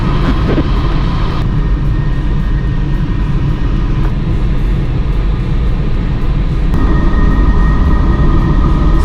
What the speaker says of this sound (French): on attend que l'avion décolle